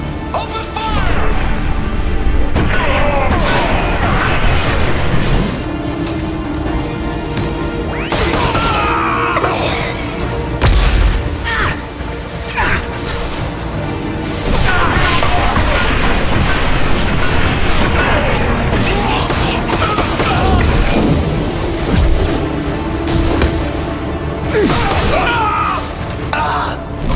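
A Mass Effect 2 battle with repeated gunshots, impacts and explosions, mixed with shouted voices and a rumbling background, loud and busy throughout.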